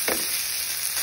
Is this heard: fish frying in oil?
yes